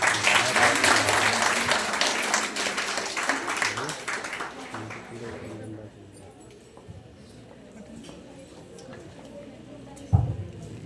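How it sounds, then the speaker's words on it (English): Audience applause for dignitaries taking the dais at a health awareness talk on self-breast examination, loud and dense at first, then thinning into scattered claps, with talk and a sharp knock near the end. "Please give a big round of applause to our dignitaries."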